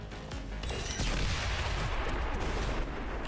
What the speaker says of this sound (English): that's 3 explosions